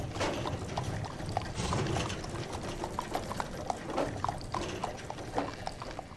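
Horses' hooves clip-clop steadily along a road in a continuous, fairly close rhythm, set against a dense wash of noise with no talking.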